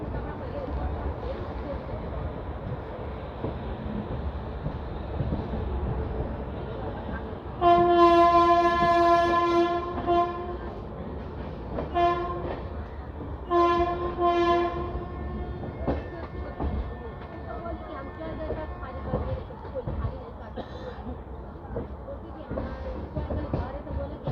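An Indian Railways LHB express rolls through a station with a loud, drawn-out horn blast in harmonic tones, then several shorter horn bursts over the steady rumble of the moving coaches.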